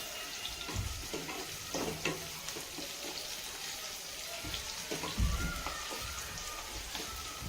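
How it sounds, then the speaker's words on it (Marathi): Sliced onion sautéing in a pan over full gas flame, a steady crackling sizzle with scattered pops and spits throughout, close and moderately loud. "आपण कांदा परतून घ्यायचा आहे गॅस फुल करायचा आहे"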